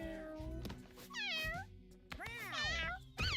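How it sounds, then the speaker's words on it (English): A cat meows in a video game, with two or three drawn-out, rising-and-falling calls separated by brief pauses, fairly clear over a soft background. "Meow."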